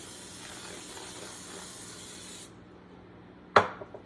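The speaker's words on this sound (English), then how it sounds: "I fill up the olive oil and the liquid olive oil into this container, and it sprays it for me" Olive oil spray bottle misting onto sourdough dough, a steady close hiss for a couple of seconds, then a pause and one short sharp spray burst.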